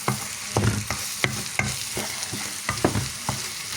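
A spatula scrapes and stirs egg and khoa in a hot pan, with soft sizzling and irregular tapping strokes up close.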